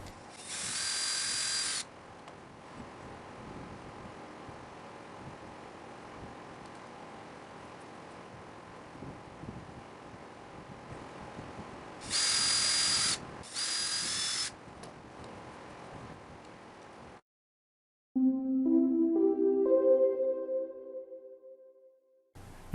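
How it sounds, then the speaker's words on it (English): A power drill whirs in short bursts, high-pitched and close, drilling 7/64-inch pilot holes and driving screws into a battery panel box, with quieter mechanical handling between runs and a brief trailing whine near the end. "Drill 7 64-inch pilot holes and screw the switch to the panel box."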